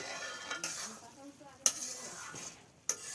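Fried potatoes being stir-fried in a pan under a soft sizzle, with a utensil scraping and clinking against the pan three times in a short, close burst.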